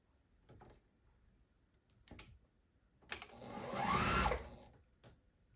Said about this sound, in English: So first I'm going to sew on like all the others.